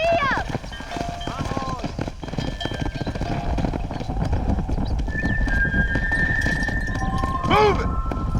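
Galloping horses are herded in Red Dead Redemption, their hooves drumming continuously under bursts of whinnying and neighing, with game voices and ambient sounds mixed in.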